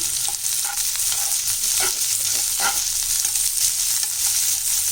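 Chopped onions sautéing in a pan for a ragi adai batter, a steady bright sizzle with a few stirring scrapes running throughout, close and fairly loud with no talking.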